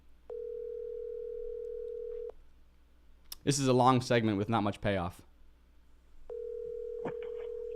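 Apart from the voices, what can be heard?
phone call ringing, waiting for pickup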